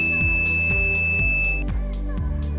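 A voltage tester gives a steady electronic tone on finding a live wire, cut off abruptly, over a repeating musical pattern.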